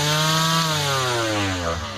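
A battery-powered grass cutter spins at high speed, around 14,000 rpm, giving a loud, steady whine with a slight downward drift in pitch, heard alone.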